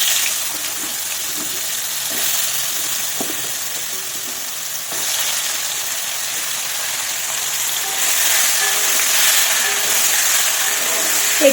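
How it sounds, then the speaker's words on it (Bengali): Potatoes cut into large chunks fry in hot oil with turmeric and salt, giving a steady, close hiss and crackle that swells slightly toward the end, with faint stirring knocks underneath and no talk. "একটু হলুদ দিয়ে লবণ দিয়ে বেশ ভালো করে ভাজছি"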